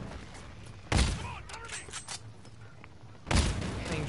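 Gunfire and explosions in the video game Call of Duty: Infinite Warfare, a refinery fight: two heavy booming blasts about two seconds apart over a steady backdrop of battle noise, with scattered sharper shots between them.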